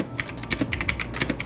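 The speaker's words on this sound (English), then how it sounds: "This keyboard is a blue switch keyboard. And let us hear what it sounds like." Someone types quickly on a Zifriend ZA646 mechanical keyboard with blue switches, making a close, crisp run of sharp clicky keystrokes in an irregular rhythm.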